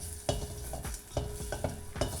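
Chopped garlic sizzles in hot oil, and five or six quick stirring scrapes of a spoon against the pan come in a loose rhythm.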